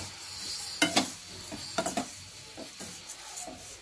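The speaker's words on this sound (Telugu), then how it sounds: "ఇలా పట్టుకట్ట పట్టుకొని మంచిగా కలుపుకోవచ్చు" Peanuts frying in a pan, stirred with a handled utensil for a poha snack mix: a soft sizzle under a few quick scraping and rattling strokes, fairly quiet and close, without speech.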